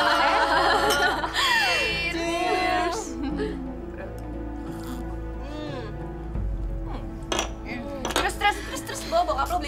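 Drinking glasses clink together in a toast during a birthday celebration. The clinks are brief and bright and come amid lively chatter and laughter from several people.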